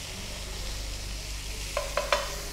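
Mushrooms cooking in a pan with a tamari and herb marinade, which sizzles with a steady, close frying hiss, followed near the end by a few light clinks.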